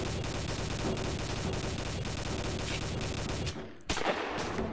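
Rapid automatic gunfire in the FPS browser game Masked Shooters: a dense, continuous rattle of shots that breaks off briefly near the end, followed by a couple of sharp louder reports.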